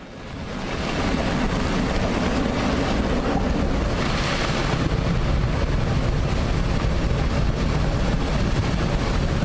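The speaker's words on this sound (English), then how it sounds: "The side of the boat swayed before the white-capped waves" White-capped ocean waves slap around a boat in a steady, loud roar of surf and rushing water mixed with heavy wind buffeting.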